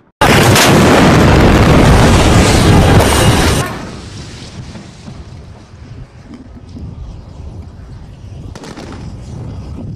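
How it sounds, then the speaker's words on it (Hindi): A loud, roaring bomb blast at Aden airport in Yemen fills the first few seconds, then drops away to a low rumbling background with faint crackles. "यमन के अदन हवाई अड्डे पर जोरदार बम धमाके हुए"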